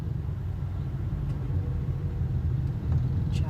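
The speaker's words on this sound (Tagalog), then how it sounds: "Traffic." Road traffic with car engines rumbling in a continuous low drone, vehicles idling and moving nearby without any voices.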